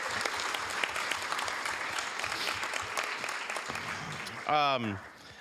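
Council meeting audience giving a round of applause for Earth Day, steady clapping throughout that fades near the end as a voice speaks briefly over it.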